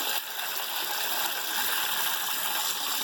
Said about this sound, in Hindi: 2 पतीली हम पानी, 2 फ्राई पैन हम पानी डालेंगे।